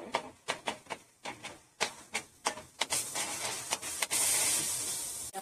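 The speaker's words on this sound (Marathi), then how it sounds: "लसणाचा जरा वास जाईपर्यंत आपण 2 मिनिटं परतवून घेणार आहे." Garlic paste sizzling in a pan for Hakka noodles, with repeated sharp crackling spits and bursts of hiss that build into a steady loud sizzle near the end, no talk.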